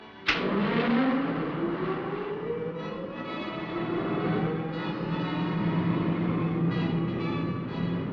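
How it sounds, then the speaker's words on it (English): Aircraft engines of the Supercar being run up as a TV show sound effect: a sharp starting whine that climbs into a sustained, rising mechanical drone with tonal ringing, loud and continuous. "may as well run the engines up while we're waiting"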